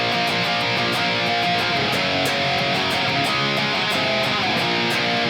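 Distorted electric guitar chugs through D-rooted power chords, a dense, loud, crunchy riff with rhythmic palm-muted strums and steady cymbal-like ticks above it.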